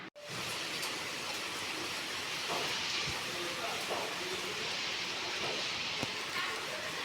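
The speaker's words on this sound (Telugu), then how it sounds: "అనుకోకుండా అన్ఎక్స్పెక్టెడ్గా వచ్చేసింది వర్షం." Sudden rain falls as a steady, close hiss that sets in abruptly and holds evenly, with a few faint knocks and clicks scattered through it.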